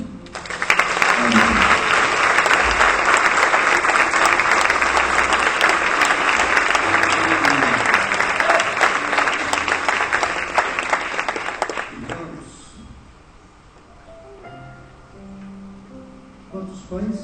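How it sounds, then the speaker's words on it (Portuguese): A church congregation applauds the Lord loudly and continuously for about twelve seconds, a dense wash of clapping with a voice over it, then the clapping fades to quieter background with a few voices. "Aplauda o Senhor."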